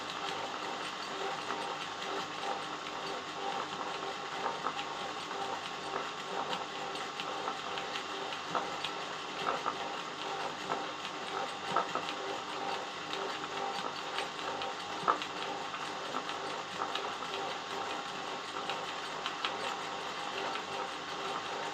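An embroidery machine stitching fabric, a continuous fast mechanical ticking and whirring that stays steady and close throughout, with no speech.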